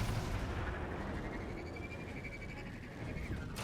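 Cannon fire and game combat in Destiny 2's Grasp of Avarice dungeon, a dense, continuous rumble of blasts with a rising tonal whine, steady and loud throughout with a sharp burst near the end.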